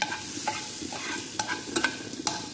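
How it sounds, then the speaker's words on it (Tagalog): Marinated fish fillet frying in a hot pan over high heat gives a steady sizzle, with a few sharper crackles and pops breaking through the hiss. "i-fry na po natin ang aking nakamarinate na fish fillet"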